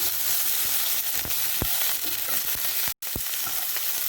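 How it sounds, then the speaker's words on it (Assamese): Tomatoes fry over a lowered flame for paneer butter masala: a dense, continuous sizzle close by, broken by stirring scrapes and spoon taps, with one brief dropout near the end. "বিলাহী দিয়াৰ পিছত আমি অকণমান ইয়াত ভাজি দিম"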